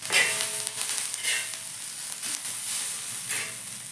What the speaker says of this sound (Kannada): ಬೆಳ್ಳುಳ್ಳಿ ಸ್ವಲ್ಪ ಇನ್ನೂ ಸ್ವಲ್ಪ ಫ್ರೈ ಮಾಡ್ತೀನಿ